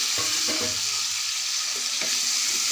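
Peas and cut potatoes drop into a hot pan, bringing a steady sizzle broken by a few clattering bumps as they land, heard close with no talking.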